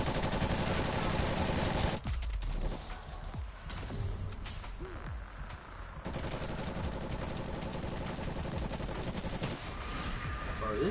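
SMG fire rattles through Black Ops Cold War Zombies in sustained rapid bursts, loud and dense, with a brief lull in the middle before the shooting resumes.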